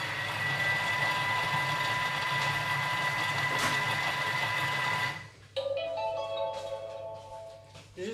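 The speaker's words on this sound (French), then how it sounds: "je vais encore le laisser mixer encore un peu" Electric mixer whirring steadily through cake batter, a close, continuous motorized buzz that stops abruptly after about five seconds, followed by quieter clinks and a faint lingering hum.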